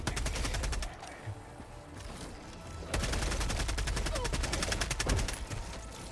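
Rapid automatic gunfire from the Helldivers II video game, dense repeated bursts of shots with a brief lull, then sustained firing resuming loud and close.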